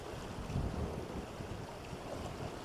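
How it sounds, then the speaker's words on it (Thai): Sea waves lap against a rocky shore on Ko Si Chang island, a faint, continuous low wash mixed with wind buffeting the microphone and no voices. "ดูเสียงคลื่นที่กระทบกับฝั่งนะ"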